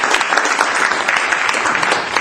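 An audience at a political gathering in Quebec applauds steadily, a dense and continuous clapping that fills the room.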